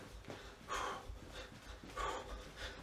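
Dog panting heavily nearby: rhythmic breathy huffs in bursts roughly every second, fairly soft and close, with no talk.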